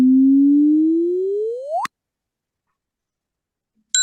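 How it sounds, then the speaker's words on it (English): A low sonified gravitational wave tone glides steadily upward and ends in a sharp chirp, then silence, then a short bright ping marking gamma rays from a burst detected by the Fermi satellite, loud and alone. "the ping corresponds to the arrival of gamma rays detected by the Fermi satellite"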